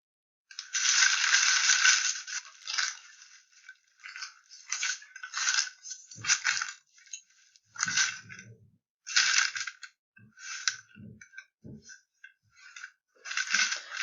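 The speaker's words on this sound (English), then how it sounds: "just squish it really tight at the top" Paper scrunched and squeezed tightly by hand while folding a paper swan, a series of close crinkling, crackling bursts separated by short pauses.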